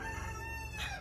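A rooster crows somewhere behind the house, one drawn-out, fairly faint call in a quiet setting, with no talking.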